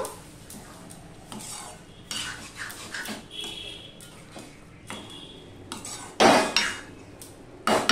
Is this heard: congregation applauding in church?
no